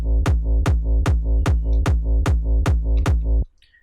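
A distorted acidcore kick drum programmed in Ableton Live 10 hits nine times at a steady fast tempo, each beat a hard, buzzing punch with a clicky attack, then it cuts off abruptly.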